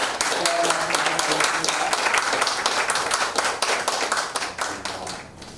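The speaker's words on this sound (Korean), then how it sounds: "목사님 반갑습니다 하면서 박수를 한번 하고" An audience at a church lecture on North Korea missions claps for a guest pastor, dense and quick clapping that holds steady and then thins and fades toward the end, with a voice speaking early on.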